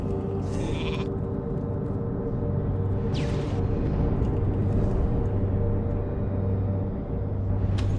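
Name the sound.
mage polymorph sheep bleat in video game World of Warcraft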